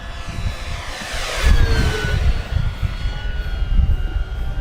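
An FMS Version 8 P-51 Mustang RC model plane flies past, its motor whine rising as it approaches, then sweeping down in pitch as it passes and fades, with wind in the background.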